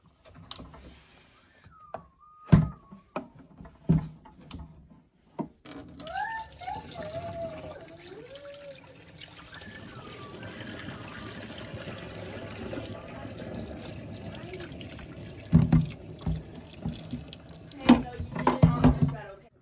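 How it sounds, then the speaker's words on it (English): Dirty water pours and splashes out of the tank of a Bissell ProHeat 2x Revolution Max Clean Pet Pro carpet cleaner, a steady close gush with knocks and handling noises, while a person talks briefly. "I'll actually show you a little clip of me dumping that water out real quick."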